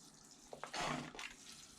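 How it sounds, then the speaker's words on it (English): Water running and trickling through the soil of a bonsai pot, a soft, close splashing wash with a brief louder gush in the middle, quiet overall and with no speech. "we'll let this water run through"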